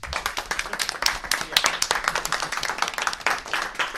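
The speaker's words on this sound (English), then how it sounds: "give him a round of applause" A live audience at a camp event applauds, a brisk run of distinct hand claps from a modest crowd, fairly close and continuous, with some voices mixed in.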